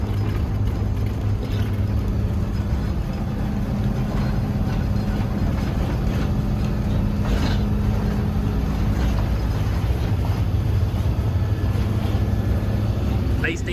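Inside a moving school bus at about 60 mph on a shaky, bumpy ride, a constant loud low drone of engine and road noise with faint rattles, and voices talk over it at times.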